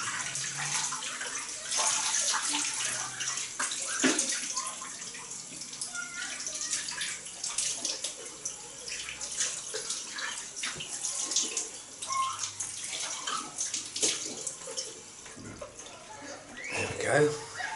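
Cold tap water runs and splashes steadily for a post-shave rinse, a continuous close hiss with small splashes and shifts as hands move through the stream, and no voice in the clip.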